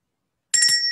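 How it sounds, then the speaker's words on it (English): Little bells hung above shop doors give a single bright, ringing tinkle that starts suddenly and rings on steadily for a short moment, heard alone and fairly close. "all the little bells above the doors are going to tinkle like this"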